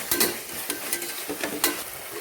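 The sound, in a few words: stirring ginger garlic paste frying in pan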